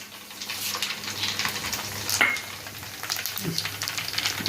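Dried red chillies crackle and sizzle in hot oil for a mango pickle tempering, a steady close sizzle with scattered spits and pops and no voices.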